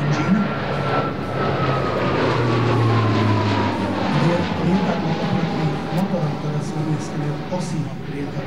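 A Slovak Air Force Alenia C-27J Spartan twin-engine military transport drones overhead at an air show, a steady broadband engine roar with a slowly falling tone, loud and continuous under a commentator's voice.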